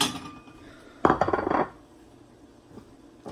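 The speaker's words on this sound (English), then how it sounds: "Let me get a plate." A plate is pulled from a stack of dishes in a home kitchen, a short burst of clattering ceramic clinks after a quiet moment, followed by faint room noise.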